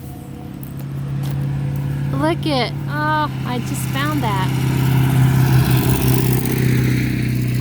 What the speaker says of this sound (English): I am so sorry for the traffic